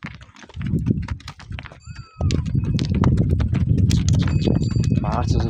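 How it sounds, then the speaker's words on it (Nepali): A horse's hooves clip-clop steadily on a mountain trail in Nepal, close and loud, with people talking over the walking rhythm. "घोडा छ यहाँ"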